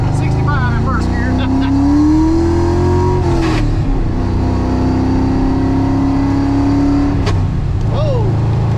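A 1999-2004 Ford Mustang converted to a manual transmission accelerating hard in first gear from inside the cabin, engine tone rising steadily with a brief shift-like dip, loud and continuous, with voices talking over it.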